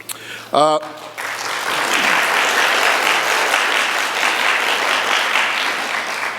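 An audience at a Dean's Forum welcomes Charles Gorra, CEO and founder of Rebag. A brief voice comes first, then broad, steady applause swells in and carries on at full strength.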